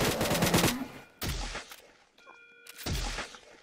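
Gunfire in a Roblox video game comes in three short bursts of rapid shots separated by brief pauses, loud and close, with a faint electronic tone sounding in one of the gaps.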